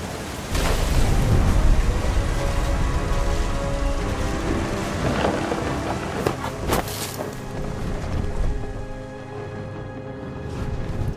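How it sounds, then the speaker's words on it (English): A thunderstorm in What Remains of Edith Finch: a dense roar of heavy rain with low rolling rumbles and occasional cracking surges, loud and unbroken throughout. "The thunder sounded much too close and full of angry power"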